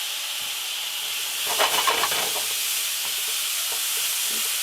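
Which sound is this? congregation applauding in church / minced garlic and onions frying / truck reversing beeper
minced garlic and onions frying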